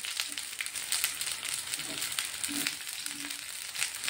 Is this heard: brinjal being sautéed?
yes